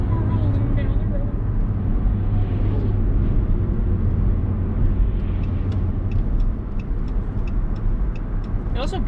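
Truck rolling down the road heard from inside the cab, a constant low rumble of engine and tyre noise filling the whole clip, with faint cabin sounds and brief voices on top.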